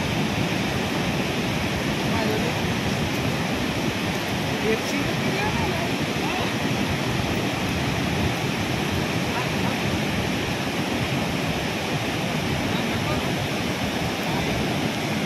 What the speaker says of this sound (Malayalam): വെള്ളച്ചാട്ടത്തിൻ്റെ കാഴ്ച ഇതാണ് ഇവിടെ താഴത്തോട്ട് വന്ന് നിന്ന് കഴിയുമ്പോൾ